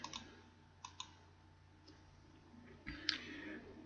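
Faint, sparse computer mouse clicks in a quiet room, a few sharp isolated ticks spread irregularly with one louder click near the end.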